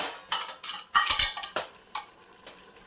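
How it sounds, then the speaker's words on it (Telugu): A metal lid goes onto a pot of spicy country chicken curry, giving a series of close clinks and clatters, with one louder rattling clang in the middle and lighter knocks after. "రబ్బర్ ఏం లేకుండా మూత వేసుకొని ఉడకనిద్దాం."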